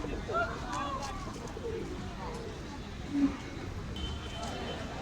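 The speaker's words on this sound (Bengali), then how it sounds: "কয়েকটা ভেরিয়েন্টের কবুতর রয়েছে এখানে" Pigeons coo softly at a Saturday weekly bird market in Hasnabad, a few low calls among market chatter and a person talking close by.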